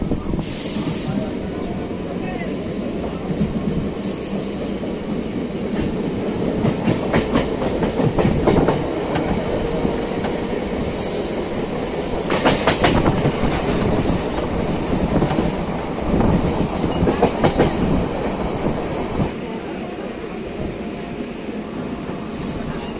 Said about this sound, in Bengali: আমাদের ট্রেন এসে পৌঁছালো কৈচন হল্ট স্টেশন